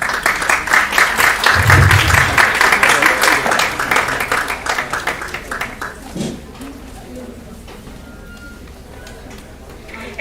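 Audience applauding award winners at a college prize distribution function, a burst of clapping that fades after a few seconds as a voice begins announcing over the quieter hall.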